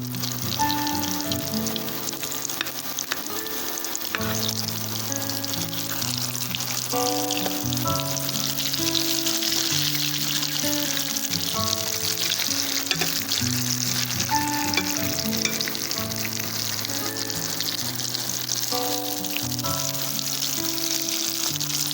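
Soya chunk lollipops fry in hot oil with a steady, bubbling sizzle that runs throughout, heard beneath background music.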